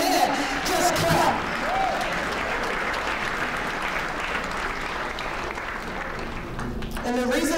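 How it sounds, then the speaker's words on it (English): An audience at a Martin Luther King Jr. memorial breakfast claps in a steady, sustained round of applause, with a voice speaking briefly at the start and end. "if you can't say amen, just clap"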